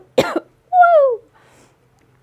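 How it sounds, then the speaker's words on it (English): A single person coughs sharply once near the start, followed by a brief throat-clearing vocal sound and a faint click at the end, otherwise quiet room. "What a way to start it with coughing."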